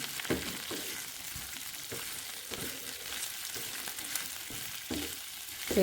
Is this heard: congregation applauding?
no